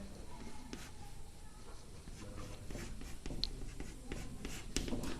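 Hand writing math on paper, a steady faint scratching of pen or pencil strokes close by, with light rustles and taps throughout, no voice.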